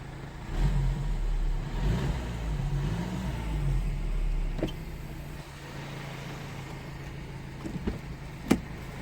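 A car engine idles with a low rumble, revs up in rising bursts for a few seconds, then settles down, followed by a couple of sharp clicks.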